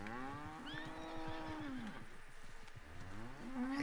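A bull bellows in a Western video game on a ranch, a long drawn-out moo with falling pitch, then a second rising moo at the end, heard close over quiet ambient noise.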